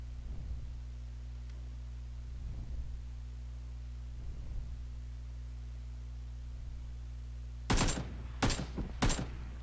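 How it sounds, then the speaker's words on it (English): Enemy gunfire aimed at the player in the video game PUBG, three sharp shots late in the clip, loud against a steady low electrical hum and soft intermittent thuds. "No, that's me they're shooting at, sorry."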